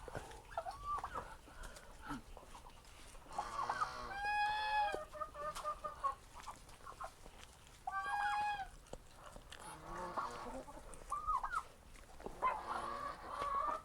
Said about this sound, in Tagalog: May bibi, may pato, may gansa, may manok.